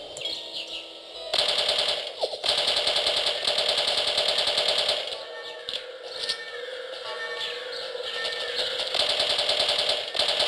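Rapid automatic enemy gunfire rattles in the video game No One Lives Forever, loud sustained bursts with brief pauses, mixed with game sound effects.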